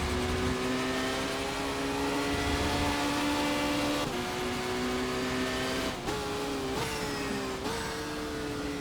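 A race car engine in the Race 07 sim racing game howls steadily at high revs, then several quick sequential gear shifts break the pitch into stepped drops and climbs.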